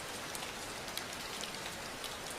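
Steady rain falls close by, a dense, even hiss of drops pattering on surfaces with no pauses and no voices.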